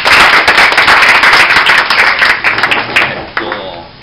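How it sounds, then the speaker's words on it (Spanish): Audience applause for a professor at a leadership talk, a dense burst of many hands clapping loudly and steadily, thinning out and fading toward the end. "Un aplauso para el profesor."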